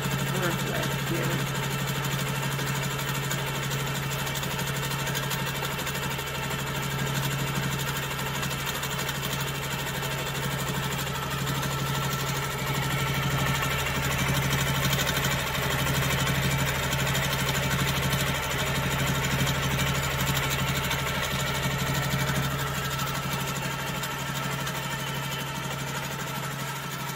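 Handi Quilter Amara ST quilting machine running steadily, a continuous mechanical hum with rapid stitching rhythm throughout, with a voice speaking over it.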